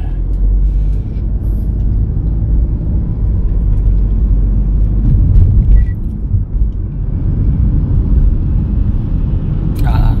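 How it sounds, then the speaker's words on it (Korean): Car pulling away after shifting into gear on a driving test course, a low engine rumble building steadily inside the cabin with brief clicks and a hiss near the end, and an instructor talking over it. "자, 기어 넣고 출발."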